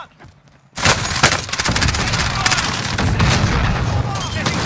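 Gunfire in a video game, booming shots and explosive blasts erupting suddenly after a quiet moment, then a dense, loud stretch of overlapping firing with a voice talking beneath.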